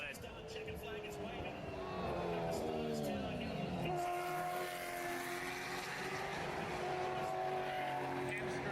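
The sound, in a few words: supercar race cars driving into the pits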